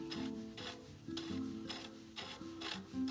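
A crank puller tool being threaded into the aluminum crank arm of a bicycle during bottom bracket bearing replacement, giving a steady run of close ratcheting and gritty metal clicks with repeated tonal squeaks, no talking.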